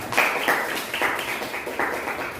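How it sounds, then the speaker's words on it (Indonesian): A small classroom group claps in short uneven bursts, close and moderately loud, with the applause fading in and out in a few waves over a couple of seconds. "Beri aplaus untuk kita semua"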